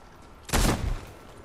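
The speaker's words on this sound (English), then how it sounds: "Hey, I'm getting shoot at." A single loud, close burst of rapid gunfire erupts during Fortnite Chapter 4 Season 2 gameplay, lasting about half a second before a brief fading tail.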